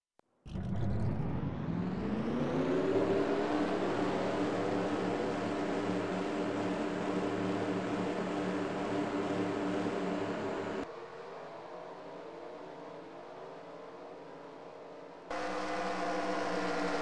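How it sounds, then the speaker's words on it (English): A field of stock car engines fires up together in a Coca-Cola 600 race at Charlotte in a racing video game, a sudden loud roar that settles into a steady, dense drone, dropping briefly in level before swelling again. "let's go ahead and get the command to fire engines for the Coca-Cola 600 at Charlotte"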